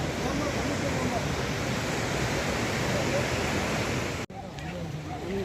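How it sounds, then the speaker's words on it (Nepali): A river swollen by the Tista flood rushes in a loud, steady roar that suddenly drops away near the end, leaving quieter water and faint background noise. "खोला बढेको हो नि"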